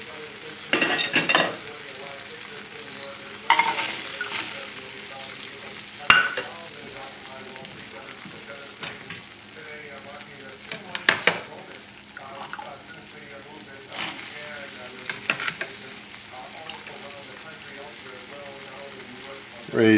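Vegetables and apples frying in a pan alongside pork loin steaks, a continuous sizzle with scattered sharp spatula knocks and scrapes, occasional water-like sounds and some faint talk in the background.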